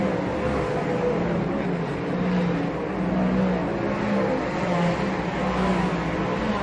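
World 240s race cars roar around the TWS Paradise Valley Speedway track, a dense, continuous engine drone from a pack of cars at close range, with faint commentary underneath.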